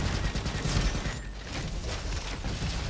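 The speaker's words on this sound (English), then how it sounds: "it's just like another mortar shot" Weapons fire in the Roboquest video game, likely a mortar-type shot, heard as a dense, noisy burst of game combat with rumbling blasts and clatter over about three seconds, no talk.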